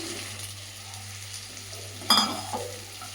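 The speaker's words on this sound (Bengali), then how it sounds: "হালকা ফ্রাই করে নিচ্ছি" Onion and capsicum, seasoned with salt and ground black pepper, fry lightly in a pan with a steady soft sizzle, broken by one brief louder scrape of stirring near the end.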